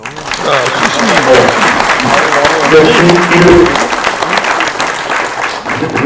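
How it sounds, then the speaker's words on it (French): An audience applauds municipal employees at a civic day presentation, loud sustained clapping from a large crowd with faint voices and murmurs mixed underneath. "je voudrais tous que vous les applaudissiez"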